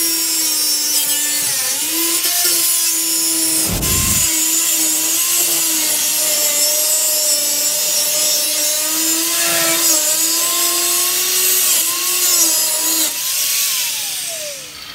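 An angle grinder whines steadily for about fifteen seconds while grinding out roof framing for a roof-mounted air conditioner installation, its pitch dipping and rising as the disc bites in, with a brief thump partway through.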